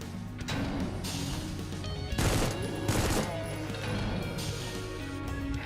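Gunfire in the video game Once Human, loud bursts of rapid shots in several clusters, the heaviest around the middle, over a steady background of game sound.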